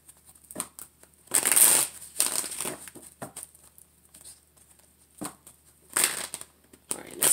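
Tarot cards being shuffled in several short riffling bursts separated by quiet gaps, close and crisp.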